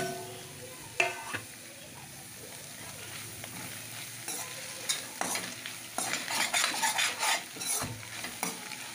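Green chilies fry in a pan while noodles are being cooked, with a continuous close sizzle and frequent scraping stirs that grow busier toward the end.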